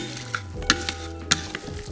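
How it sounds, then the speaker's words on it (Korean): A salad is tossed with salt and pepper, making a close, crackly rustle under a low steady hum, punctuated by a few sharper clicks as the ingredients are mixed, with nobody talking. "소금 1작은술, 후추 4분의 1 작은술을 넣고 잘 섞어주세요."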